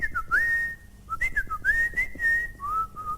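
A person whistles an imitation of the Hadzabe call to the honeyguide bird, a clear, close, warbling phrase of rising and falling notes repeated in short bursts with brief pauses.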